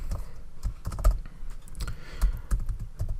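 Code is typed on a computer keyboard in a quiet room, a steady run of close, crisp key clicks with irregular rhythm and a few heavier thumps, no voice.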